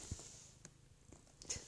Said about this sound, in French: j'ai le chat qui vient me faire des câlins